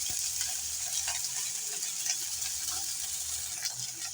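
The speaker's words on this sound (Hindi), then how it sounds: "फुल गर्म ऑयल में हम रखेंगे ताकि इनका कलर ब्लैक नुमा आ जाए" Beef steak sizzles in very hot oil, a steady, close hiss and crackle that holds evenly throughout with no voices.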